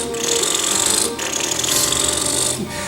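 A voice mimics a Volkswagen Beetle engine up close with two buzzy, rasping bursts, the first about a second long and the second slightly longer, separated by a brief dip.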